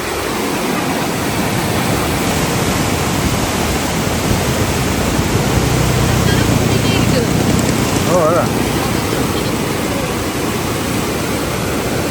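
A loud, constant roar of water rushing over the Iranaimadu reservoir spillway in Kilinochchi fills the whole stretch, broad and unbroken, with a faint voice briefly audible partway through.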